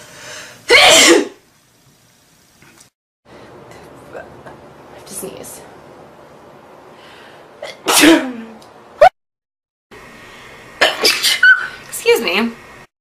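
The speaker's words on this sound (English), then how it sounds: "I have to sneeze." Several loud, sharp human sneezes burst out at separate moments, one near the start and others later, with quieter background talk and rustling in between.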